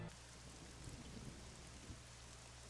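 Steady rain on a rainy night in the video game AI: The Somnium Files, a soft continuous hiss of falling drops with a low rumbling hum beneath, faint and unbroken.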